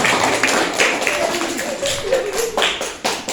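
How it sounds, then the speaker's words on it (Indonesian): An audience at an Indonesian religious gathering claps in loose, uneven bursts, close and fairly loud, with a few voices murmuring underneath. "Ya, tepuk tangan sekalian."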